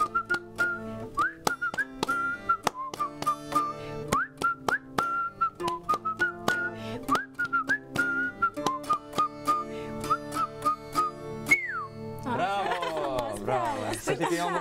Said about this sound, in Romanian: Și ei au continuat cu ritmul ăsta la fluierat.